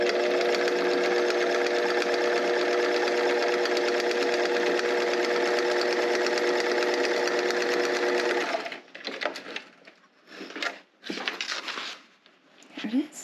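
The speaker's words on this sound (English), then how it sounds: "top stitch all the way down" A sewing machine top stitching down the length of a see-through zipper pouch, a steady whirring hum lasting about eight seconds, then fabric rustling and handling sounds while someone talks.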